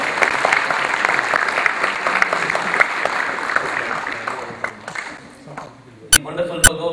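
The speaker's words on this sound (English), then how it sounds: "Can we have a round of applause?" Audience applause for graduates who staffed the registration counter at the TACQ 2016 event, a full, steady clapping that tapers off after several seconds, followed by quieter room sounds and two sharp clicks.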